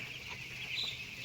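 Chickens crowd the nipple drinkers of a poultry shed after an hour without water, their clucking and calls forming a dense, continuous farmyard chatter at close range.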